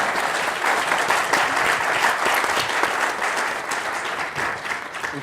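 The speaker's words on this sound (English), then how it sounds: "let's give the panel a round of applause." Audience members at a veterans' honor event give a panel a round of applause: full, steady clapping from a roomful of people, close and even for about five seconds, tapering slightly at the end.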